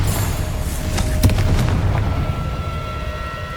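A blasting curse in a video game goes off as a deep, rumbling explosion, with a sharp burst about a second in and then a fading roar.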